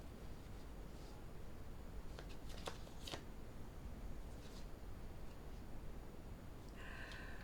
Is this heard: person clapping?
no